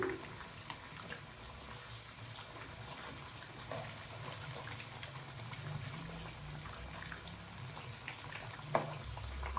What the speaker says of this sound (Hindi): मछली के पकौड़ों को फ्राई होते हुए तकरीबन 2 से 3 मिनट हो चुके हैं। अभी चम्मच की मदद से हम इनको हिला देंगे।